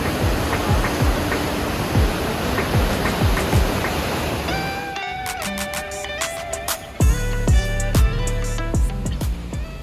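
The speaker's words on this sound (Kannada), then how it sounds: "ಆ ಒಂದೇ ಗೇಟ್ಗೆ ಈ ನೀರು ಫೋರ್ಸ್ ಹೆಂಗೆ ಬರ್ತಾ ಇದೆ ನೋಡಿ." Water from a single open gate at the Vani Vilasa Sagara (Mari Kanive) dam in Karnataka roars as a loud, dense rushing wash for about five seconds before music takes over.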